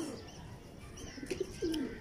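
Teddy pigeons coo in short, soft calls over a noisy background, with a few brief notes and a longer falling coo near the end, fairly close but moderate in level.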